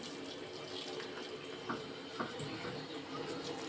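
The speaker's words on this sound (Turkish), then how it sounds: "Ama suyu çok da açmayalım." Tap water runs steadily from a faucet into a bathroom sink during a child's tooth brushing, a soft continuous wash with a few faint clicks and knocks over it.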